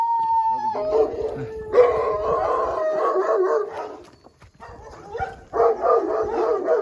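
Several dogs barking and yowling in overlapping bursts, with a long howl-like tone at the start and a quieter gap midway before the chorus resumes.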